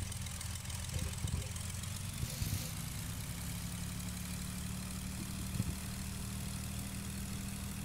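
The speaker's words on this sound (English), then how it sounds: "Oh, this engine sounds nice." Cessna 182 engine idling in Flight Simulator X, a low, steady drone with a constant hum that holds evenly throughout, with a few soft clicks over it.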